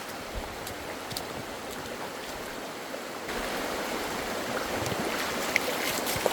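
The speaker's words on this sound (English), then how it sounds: "I'll turn the pump on." A water pump runs in a power washer test tank, giving a steady rushing, splashing wash of water that grows slightly louder partway through, with no talking.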